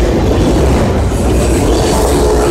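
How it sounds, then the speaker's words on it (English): An empty CN auto rack freight train rolls past close by, a loud continuous rumble of wheels and rattling cars with steady clatter throughout. "empty auto rack train."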